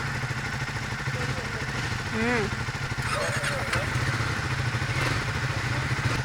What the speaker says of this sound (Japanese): なんかスピード400の方が心なしかこの排気音が耳によく届く気がするんですよね。